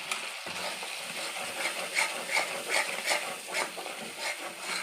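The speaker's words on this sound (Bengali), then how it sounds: "সব কিছু দিয়ে ভালো করে আমি এটা কষে নেব যতক্ষণ না তেল ছাড়ে" Spices with cashews, raisins, melon seeds, poppy seeds, a little sugar and chilli powder frying in oil for a paneer curry, a continuous close sizzle with rhythmic stirring scrapes swelling and easing throughout, no talking.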